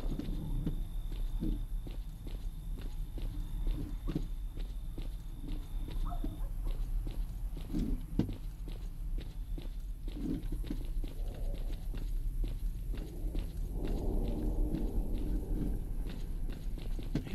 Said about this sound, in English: I knew I heard additional footsteps.